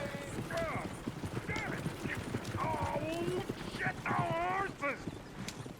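Hooves clip-clop steadily from horses in the Red Dead Redemption 2 video game, heard under ongoing conversation between characters, with an occasional whinny-like tone.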